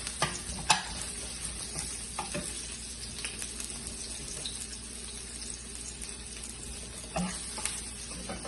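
Sliced ginger and garlic fry in oil in a pan with a steady, close sizzle, broken by scattered spatula clicks and scrapes as they are mixed. No one speaks.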